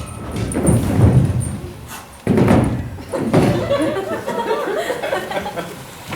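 A door slams shut on a theatre stage during a live play, one sharp bang at mid-clip set among stage voices, audience laughter and general hall noise.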